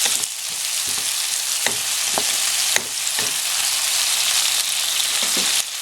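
Tomatoes frying with onion in a pan, a steady broadband sizzle with a few scattered stirring clicks and scrapes, close and continuous throughout.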